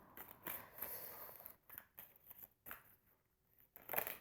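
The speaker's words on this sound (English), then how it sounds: "now they're getting hard to shuffle" Crisp riffling and flicking of a thick deck of tarot cards in quick bursts, with short pauses between, close by and fairly quiet.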